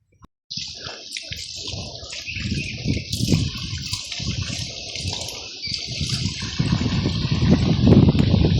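Water splashes and gushes steadily as banana leaves are rinsed under running water, with rustling and handling noises throughout, growing louder toward the end.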